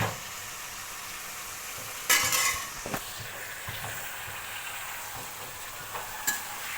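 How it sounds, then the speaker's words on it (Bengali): Chopped vegetables fry in oil for a vegetable khichuri, a steady soft sizzle with a few sharper bursts of hissing and scraping as they are stirred, close by with no voices. "যে সবজিগুলো আমি কেটেছিলাম সেগুলো ভেজে নিচ্ছি তেল দিয়ে।"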